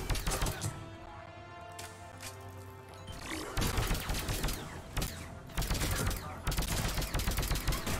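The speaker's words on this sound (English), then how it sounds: "Don't see him, but I'm shooting." Mass Effect 3 gunfire comes in rapid bursts of close, crackling shots, with several volleys separated by short pauses.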